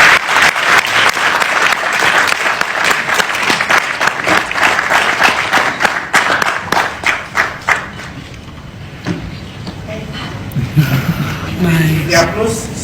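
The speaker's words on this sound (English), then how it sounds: "The applause stop" Loud, dense applause from an audience at a State House gathering fills the first half, then thins into scattered claps and fades out, followed by quieter room sounds and some talk.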